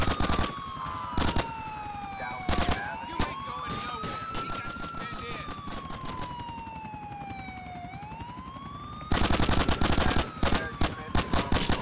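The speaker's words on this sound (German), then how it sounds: "Die Waffe schießt nicht weit genug, um den da zu treffen?" Gunfire in GTA IV: The Ballad of Gay Tony, loud bursts of rapid automatic shots at the start and again near the end, while a police siren wails and sweeps up and down through the middle.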